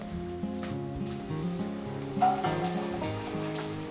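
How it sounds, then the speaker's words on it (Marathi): Finely chopped carrots fry in a pan with a steady, soft sizzle that hisses evenly throughout, close by, with a brief louder crackle midway. "गाजर आता आपल्याला छान असे फ्राय करायचे आणि शिजवून घ्यायचे आहेत"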